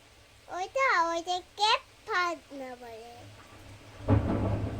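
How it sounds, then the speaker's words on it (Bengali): Thunder during a storm: children talk first, then a loud, close rumbling crash breaks in near the end over faint rain. "আকাশে বোম করে আওয়াজ হচ্ছে আর আলো জ্বলে উঠছে"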